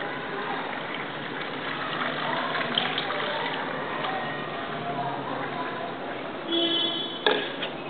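Brine being poured into water in a container for a homemade electrolysis hydrogen cell, a continuous splashing gush throughout, swelling briefly near the end with a couple of clinks, close and fairly loud.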